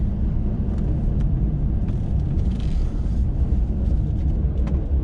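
Pickup truck with a SnowDogg XP1 810 snow plow, engine idling steadily in two-wheel drive on a snowy driveway, a loud continuous low rumble with no talking.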